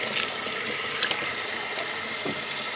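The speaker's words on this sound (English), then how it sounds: "I rinse them off super good and double checking for seeds and little peeling bits" Steady tap water runs into a kitchen sink while apple slices are rinsed for canning, a constant close splashing hiss with faint clicks from handling and no talking.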